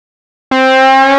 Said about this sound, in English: So let's start from the bass pitch and go up.